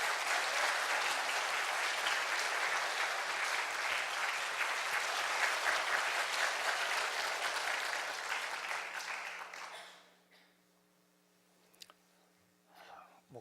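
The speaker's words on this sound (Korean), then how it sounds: "우리 박수로 한번 격려하겠습니다." Church members give a sustained, even round of applause welcoming an elder to the front; the clapping holds for about nine seconds, then dies out quickly into near silence with a faint hum.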